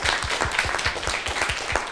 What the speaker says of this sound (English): Round of applause for this gentleman for sharing.